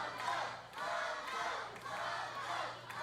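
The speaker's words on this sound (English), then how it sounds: "This crowd coming alive for Loco." A crowd at an OVW steel cage wrestling match cheers and yells in rising and falling waves, rallying loudly behind a wrestler, heard from inside the arena for a few seconds.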